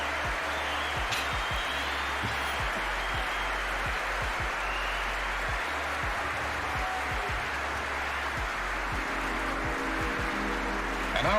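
A round of applause from a crowd, a steady dense patter of clapping that holds evenly throughout, with a few low thumps underneath.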